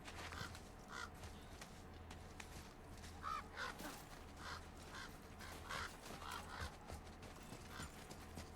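Regular crows in the game God of War give several faint, scattered caws over a low, steady ambient hum.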